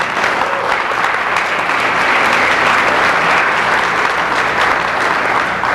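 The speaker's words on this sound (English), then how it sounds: "so I think she deserves a big round of applause." Warm, sustained applause from a luncheon audience at an AARP installation event, many hands clapping densely and steadily without a break.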